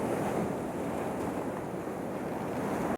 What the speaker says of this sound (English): here there was like a big wave